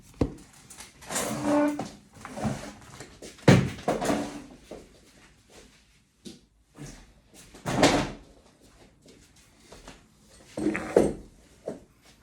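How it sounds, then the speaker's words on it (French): A chair is shifted and swapped for another, giving scattered knocks, scrapes and creaks in irregular bursts over about twelve seconds, close by with quiet gaps between them. "désolé de ces bruits de chaises. Je pense que je vais changer de chaise."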